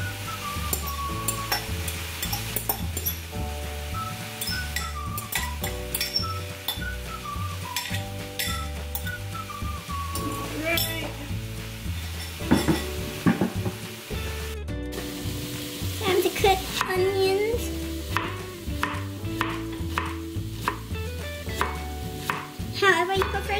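Tofu sizzles and fries in a pan, with steady frying hiss, intermittent stirring and utensil clinks against the pan, and occasional faint talk.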